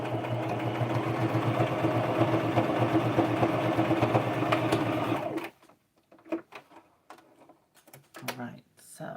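A home sewing machine runs steadily for about five seconds, stitching fabric for the back of a handmade doll's head, then stops abruptly and only scattered light handling clicks and shuffles remain.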